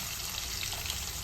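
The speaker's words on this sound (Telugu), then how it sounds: "అందుకే కొంచెమే తాలింపు అయితే వేస్తున్నాను." Whole spices crackle and sizzle steadily in hot oil as a tempering for beetroot curry, a close, continuous hiss with no voices.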